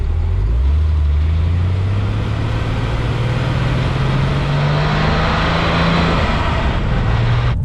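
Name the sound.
Porsche 993 RS Clubsport engine while driving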